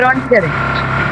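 A steady low car engine in a video game drones under excited voices, holding a constant hum through the second after the talk.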